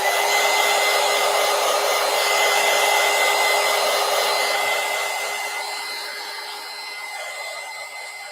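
A hair dryer blows close and loud in a steady whooshing hum for several seconds, drying paint on a Gelli plate print, then eases slightly toward the end as its angle or distance shifts.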